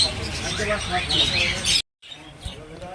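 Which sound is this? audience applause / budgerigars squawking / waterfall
budgerigars squawking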